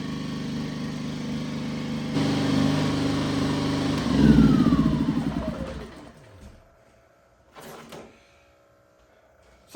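Champion 2000W inverter generator running in eco mode, a close steady engine drone that swells briefly, then winds down and falls silent, followed by a short faint clatter.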